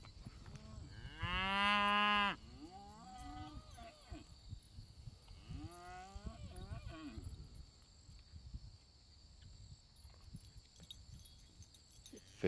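Red Aberdeen cow lowing on a grazing pasture: one loud, sustained moo followed by fainter, shorter calls, with someone talking quietly and light outdoor ambience.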